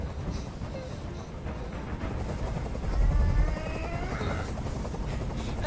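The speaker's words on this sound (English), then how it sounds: "Tell that helicopter to get out of here." A helicopter in Detroit: Become Human flies overhead, its rotor a continuous loud thrumming drone that swells briefly midway, alone without talk.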